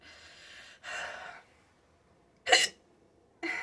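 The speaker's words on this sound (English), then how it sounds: "One chip and I already have the hiccups." Hiccups after eating a spicy chip: a few sharp, abrupt breathy catches spaced apart with quiet gaps, close and fairly loud, with soft breathing between.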